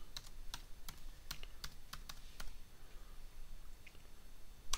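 Rapid, quiet keystrokes on a computer keyboard as a folder name is typed, coming in an uneven run of sharp clicks.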